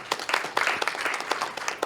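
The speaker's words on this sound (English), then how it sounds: "Give her a round of applause," A brief burst of audience applause at a youth entrepreneurship event, scattered, moderately faint clapping lasting under two seconds.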